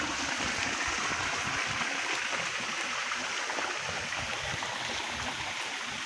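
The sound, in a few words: rainwater falling and flowing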